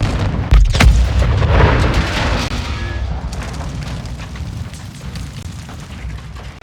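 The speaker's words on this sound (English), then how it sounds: "there's explosives in these orange boxes around this area, and we take out the tank with a bang" A tank blown apart by explosives in Call of Duty: Modern Warfare 2 erupts in a loud, close boom, followed by a long rolling rumble and scattered debris crackle that slowly fade.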